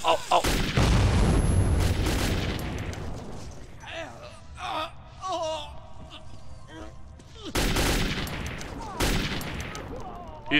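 In the Metro 2033 video game, a heavy grenade blast booms up close, followed by bursts of gunfire and further loud impacts, with a voice shouting over the chaos.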